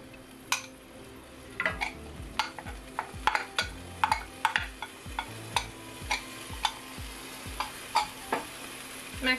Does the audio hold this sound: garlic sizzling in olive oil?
yes